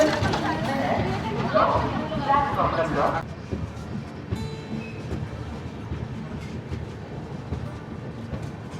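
A train leaving Bandel Junction rumbles steadily along with a low, continuous roar, while a voice talks over the first few seconds before fading out.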